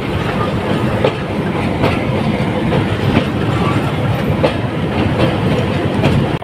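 A passenger train leaves Khulna station in Bangladesh, a loud steady rumble of wheels on rails with a rhythmic clickety-clack heard from inside the carriage.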